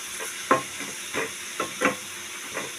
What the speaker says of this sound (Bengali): ধনে পাতা দিয়ে আমি ভাজা ভাজা করে নামিয়ে দেবো